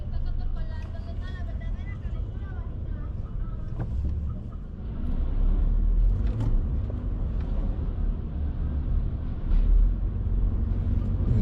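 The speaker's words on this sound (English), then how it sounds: "it's a Junction Boulevard traffic" Backed-up traffic on Junction Boulevard in Queens, New York City, heard from inside a car as a continuous low rumble of engines and rolling vehicles, with brief bumps and knocks and someone talking over it.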